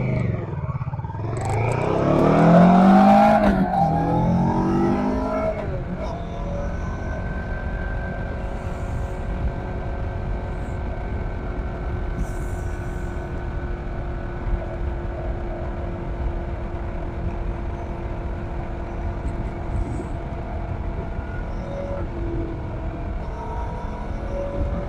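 A motorcycle being ridden, a steady engine drone with wind rumble throughout and a louder surge of noise near the start.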